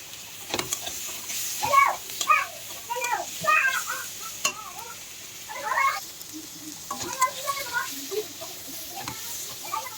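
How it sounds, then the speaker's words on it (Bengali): Vegetable curry being sautéed in a pan, with soft sizzling and intermittent stirring and scraping clinks up close, while someone talks over it. "এদিকে তরকারিটা এই যে সবজিটা কষাবো কিছুক্ষণ"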